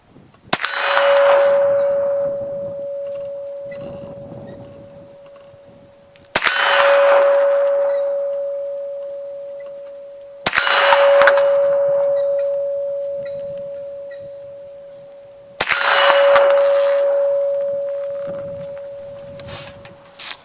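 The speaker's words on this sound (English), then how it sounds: "I'm going to finish up this segment of target shooting on the metal targets, shooting at 3 different targets at 25 yards." Four sharp metallic clangs from 9mm Hi-Point 995TS carbine rounds striking steel targets at 25 yards, each impact ringing with a sustained steady tone that slowly decays over several seconds before the next hit, spaced roughly four to five seconds apart.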